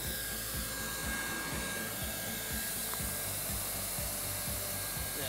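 A hot air heat welder runs along a seam with a steady blowing hiss and a low rhythmic rumble underneath, close and continuous throughout.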